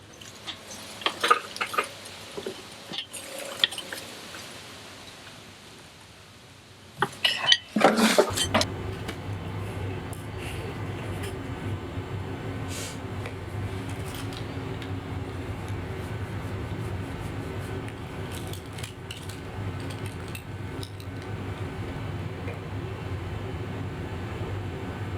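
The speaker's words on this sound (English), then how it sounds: "I am now going to be tightening the upright pipe into the tank" Metal clanks and scraping ring out as an upright steel pipe is screwed into a basement Roth oil tank, followed by a steady low mechanical drone filling the room.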